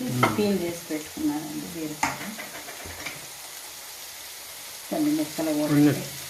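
Ridge gourd peels fry in hot oil in a pan, a soft sizzle broken by scraping stirs, while a voice talks briefly at the start and end.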